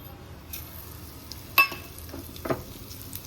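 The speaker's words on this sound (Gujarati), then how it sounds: "હવે મસ્ત દાળ વઘારી દઉં." Oil with asafoetida and spices is tempered for a Gujarati dal. It gives a soft, low sizzle, with a few sharp clinks of a metal utensil and pan standing out over the quiet frying.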